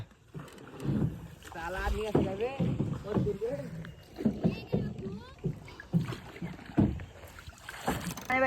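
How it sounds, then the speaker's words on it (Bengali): A rowing boat moving across open water outdoors, with splashing and wind running under people talking and calling out across most of the stretch. "নৌকাতে চেপে গেছি গাইজ দেখতে পাচ্ছো নৌকাতে কিন্তু চেপে গেলাম নৌকা কিন্তু চলছে"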